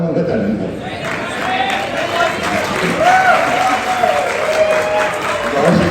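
Audience applause at a university event in Lahore, a broad, steady wash of clapping throughout with some voices and cheers mixed in.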